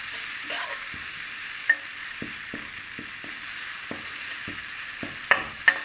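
Shrimp stir-fried in a hot pan for Thai shrimp with shrimp paste, a steady sizzle with a spatula scraping and clacking against the pan in irregular strokes, a few sharper knocks standing out.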